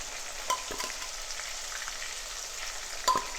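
Fish pieces marinated with vinegar, chili and salt fry in hot oil for pickle, giving a steady, fairly quiet sizzle with a couple of brief stirring clinks and no talk.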